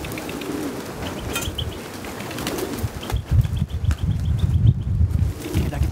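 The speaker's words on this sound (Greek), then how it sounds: "Πολύ σκληρά περιστέρια." Flock of racing pigeons arriving at a Santorini club loft, with flapping wings and soft cooing, louder bursts of wingbeats in the second half and faint distant voices.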